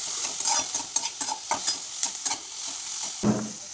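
Chopped onion and tomato fry in a pan with green chilli. A spoon stirs them in repeated scraping strokes over a soft, continuous sizzle, with one louder scrape near the end.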